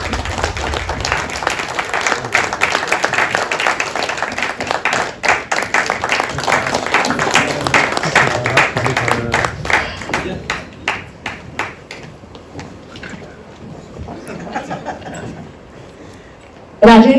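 Audience applause for actress Pooja Sawant at a Marathi film event, dense clapping and crowd noise filling most of the stretch before thinning out near the end, with scattered claps trailing off.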